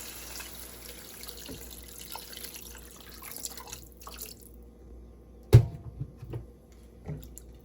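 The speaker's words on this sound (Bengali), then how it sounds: "এরপরে একটু গরম পানি দিয়ে দেবো।" Hot water poured into a pan of cooking lamb and rice after soy sauce: a quiet wet background gives way to one sudden splash and a few trailing gurgles and drips, close by, with no speech.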